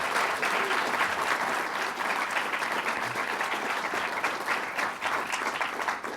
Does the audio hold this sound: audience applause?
yes